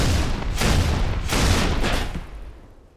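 Brute Shot grenades in the Halo 3 alpha video game burst on direct impact, producing about three loud, close, booming blasts in quick succession, each with a rumbling tail that fades out at the end.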